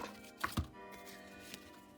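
A single quick cut that splits something in two, a sharp snap followed at once by a dull thud, close and fairly quiet against a soft background hum.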